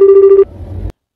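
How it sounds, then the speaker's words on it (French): A telephone ring: one loud, steady electronic tone lasting under half a second, followed by a low rumble that cuts off abruptly, with no voices. "Téléphone est sonné."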